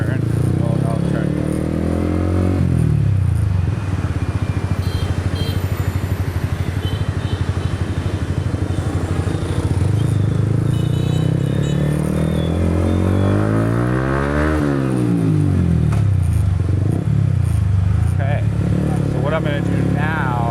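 A Yamaha MT-15 motorbike rides through busy Saigon traffic, its engine droning steadily with rising and falling revs as it accelerates and slows, under wind noise and a rider's talking.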